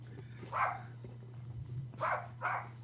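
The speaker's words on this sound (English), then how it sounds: "My dog will stop barking momentarily." A dog barks in three sharp bursts, one early and a closer-spaced pair near the end, over a steady low electrical hum with no talking.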